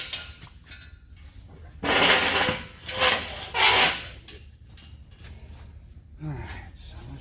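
A Honda Pioneer 1000 tire rubbing against the body, heard as a few loud scraping, rasping bursts separated by quieter gaps, close by, with talk around it.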